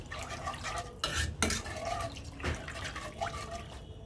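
A spoon stirs a lachha semai mixture with raisins in a pot, making soft, quiet wet scrapes and sloshes with a few sharper knocks against the metal, and no one speaking.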